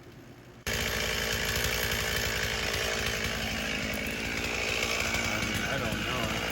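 Chainsaw cutting into a damaged cherry tree being felled for firewood, kicking in abruptly after a brief quiet start and then roaring steadily and loudly at close range for the rest of the clip.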